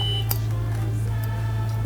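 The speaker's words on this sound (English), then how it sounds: "Now it has triggered an alarm after sensing a temperature above 37 degrees Celsius." A temperature sensor alarm set off by a reading above 37 degrees Celsius beeps repeatedly and loudly, sharp electronic tones repeating over a steady background hum.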